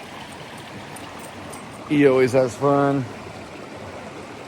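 A river flows steadily in the background, a soft continuous rush of water, while someone talks over it for about a second in the middle.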